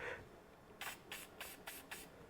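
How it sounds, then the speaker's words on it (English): Silicone spray applied to the water pump O-ring during a water pump change on a Toyota/Lexus 2GR-FE 3.5L V6 engine, heard as five short, soft hissing spritzes in a steady rhythm in a quiet garage. "On that O-ring right here, because the housing is going to go over it, you're going to want to put a little bit of silicone spray."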